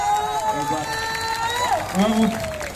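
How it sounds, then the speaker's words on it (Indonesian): Applause from an outdoor crowd at a Balinese drama gong performance in a town square, mixed with whistles and cheering and a voice speaking over the clapping. "Kerasanya tepuk tangan,"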